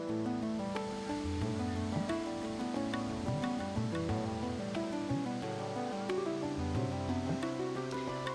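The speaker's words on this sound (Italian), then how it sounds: "La cascata sgorga dal fianco del Canin e con un salto di 80 metri circa si getta in un laghetto verde dalla forma circolare." The Fontanone di Goriuda waterfall, which drops about 80 metres from the flank of Mount Canin into a round green pool, gives a steady, dense roar of falling water that holds even throughout, with no voices heard.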